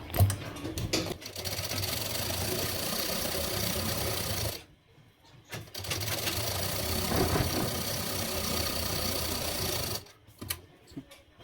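A sewing machine stitches along the edge of blouse fabric in two long, loud, continuous runs of rapid mechanical whirring, separated by a short pause with faint handling noise.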